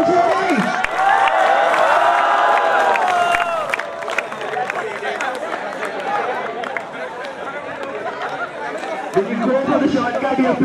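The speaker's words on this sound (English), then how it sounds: "A large round of applause." A crowd at a school robotics competition at Comfest 2016 cheers and applauds, with voices shouting and chattering loudly over dense clapping that eases slightly midway.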